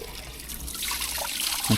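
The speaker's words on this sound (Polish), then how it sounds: "Przyjechałem sobie jeszcze napełnić wodę z tego miejsca tutaj." Water trickles from an outdoor tap in southern Poland, a soft, steady splashing stream lasting a couple of seconds.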